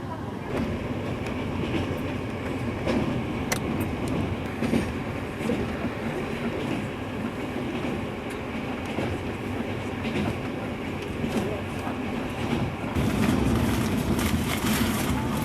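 Train on the Trans-Mongolian railway in Inner Mongolia, China, rumbling steadily with clattering wheels and faint squeals, heard from on board at moderate level.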